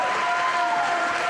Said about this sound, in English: We can hear this crowd appreciating the effort that both athletes are putting into this contest